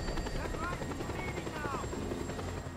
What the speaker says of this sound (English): He's an invisible chopper.